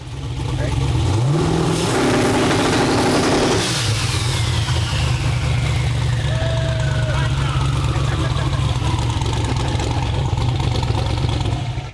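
A car engine revs hard under acceleration, climbing quickly and then roaring at high revs, very loud and close throughout.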